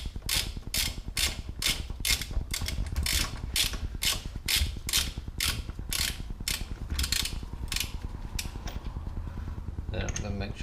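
Rapid, evenly paced ratcheting clicks from a wrench tightening wheel nuts onto a racing car axle. Loud and close, with a short clatter of handling at the end.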